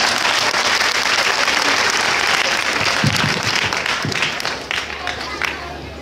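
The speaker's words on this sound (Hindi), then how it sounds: "बहन जी के लिए तालियां" An audience at a children's quiz gathering applauds loudly and steadily, a thick roar of clapping that tapers off toward the end as a voice begins to speak.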